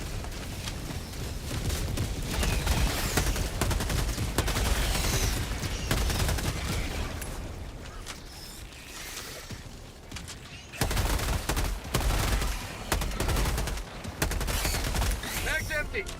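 Sustained automatic rifle fire and explosions in the video game Helldivers 2 on a high-difficulty mission, heavy overlapping bursts rolling on for many seconds with brief lulls, with players talking over the din.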